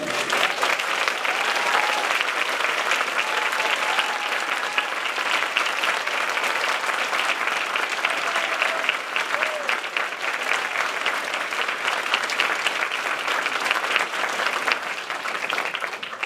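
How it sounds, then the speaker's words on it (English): An audience at a school promotion ceremony gives staff and teachers a long, steady round of applause, dense clapping that holds at an even level from start to finish with no voices over it. "we can give you a proper round of applause"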